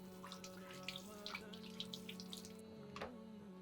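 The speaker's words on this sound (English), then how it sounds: "So, firstly, we need to wash our hands." Hands are washed under a running kitchen tap, a steady faint stream with small splashes and rubbing, heard alone at low level.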